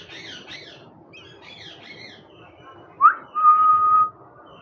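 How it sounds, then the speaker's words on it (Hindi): A female ringneck parrot gives repeated whistling chirps, then a sharp squawk and a sustained shrill whistle, fairly close in an indoor setting. "फीमेल रिंग नेक है, ये बहुत शोर कर रही है"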